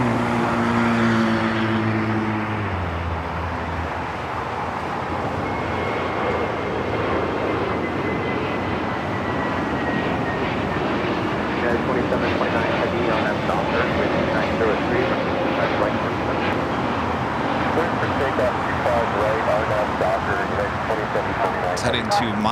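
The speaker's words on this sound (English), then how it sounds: "I got that Viva Aerobus A321neo now taking off" A Viva Aerobus Airbus A321neo airliner takes off at Los Angeles airport, its engines building into a broad, steady roar that holds throughout while people talk over it.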